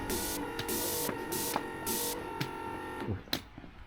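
A handheld insect-repellent sprayer on a mountain hike hisses in several steady bursts of about half a second each, separated by short pauses, with faint clicks and a low mechanical hum underneath.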